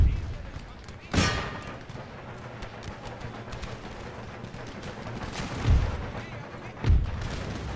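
Musket volleys and artillery fire in the Empire Total War video game, a steady distant crackle of gunfire punctuated by three heavy booms, with battlefield noise throughout.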